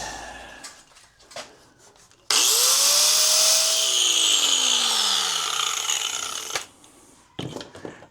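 A power tool cuts through a lower shock tab on a Jeep, a loud, steady grinding screech with a falling whine that lasts about four seconds, framed by quieter handling noises before and after.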